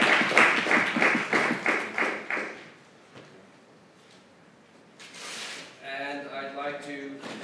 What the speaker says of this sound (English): let's have one more warm round of applause for all the finalists of this Novice final